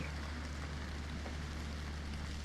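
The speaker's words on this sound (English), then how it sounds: "Rain in the desert." Rain falls in a desert as a steady, even hiss with a low background rumble, continuous and unbroken, with no voices.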